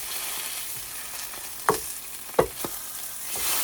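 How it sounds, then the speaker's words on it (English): Food frying in a skillet on an off-grid homestead stove, a soft steady sizzle with a couple of sharp pops and crackles, close and fairly quiet. "Let me turn this down because this is a skillet."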